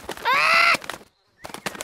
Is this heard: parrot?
yes